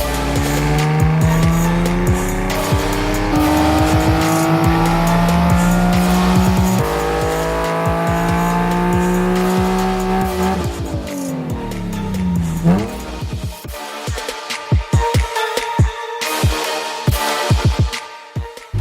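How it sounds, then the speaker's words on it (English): Nissan 370Z Nismo with drop-in air filters, HFCs and an ECU tune, run hard on a dyno: a loud, close engine note climbs steadily through a full pull, then drops off into sharp, choppy revs and pops near the end. "we're going to put it on the dyno again to see what the new power figures are"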